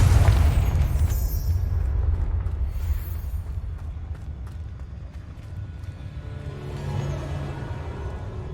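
A Confringo fire spell goes off in Hogwarts Legacy with a loud low boom at the start, then a rumbling decay that fades into a steady low game ambience.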